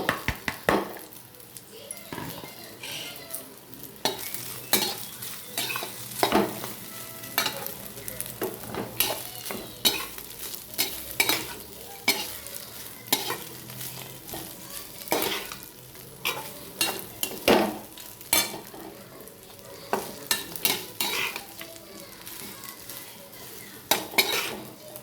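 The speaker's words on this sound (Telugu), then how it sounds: "తర్వాత రైస్ వేసుకొని కలుపుకోవడం." Curry leaf rice fries and sizzles in a pan while a spoon stirs it in repeated scraping, clattering strokes against the metal, up close and irregular.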